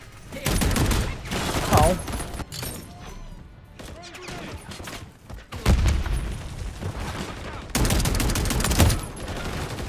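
Automatic shotgun in Call of Duty Modern Warfare 3 blasts loudly in several long, dense volleys with short gaps between them. A man briefly cries out amid the firing.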